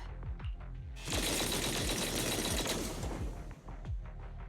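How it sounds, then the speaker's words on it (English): A dense, sustained burst of heavy cannon blasts and rumbling roars from Zenless Zone Zero, loud and close, with sharp booming hits before and after a roughly three-second barrage. "That was the sound of a heavy cannon?"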